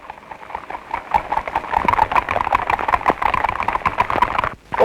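Horse hooves clip-clopping in a fast, continuous stream of sharp, close knocks that grow louder and denser, then break off with a brief pause before a sudden loud burst at the end.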